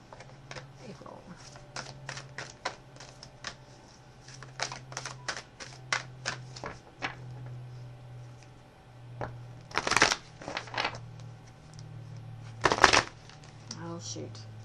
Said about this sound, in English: That shuffle evidently wasn't right.